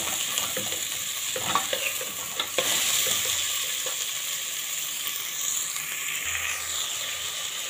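Onions stir-fried in a pan hiss with a steady bright sizzle, broken by a few scraping stirs of a spoon against the pan, near and continuous without any voices.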